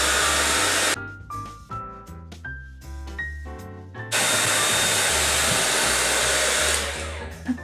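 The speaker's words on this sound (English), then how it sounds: "Here's the hairdryer." A hair dryer blows over freshly glued hoodie fabric pieces, a steady close whooshing hum that cuts in and out with brief on-off switching before running continuously.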